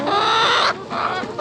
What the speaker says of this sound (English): So I've got plenty of peelings here that I'm gonna give to these chickens.